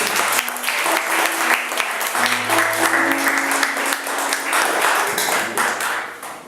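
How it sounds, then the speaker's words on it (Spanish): A church congregation applauds during a Spanish-language service, with dense, steady clapping that holds for several seconds before tapering slightly at the end. "entonces denle otro aplauso a Jesús ahora"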